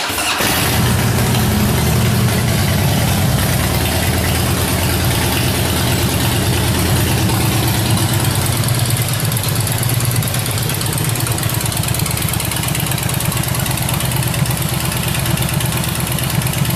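A 2008 Harley-Davidson Night Train motorcycle fires up with a brief crank, then settles into a loud, close, steady idle that rumbles unbroken to the end.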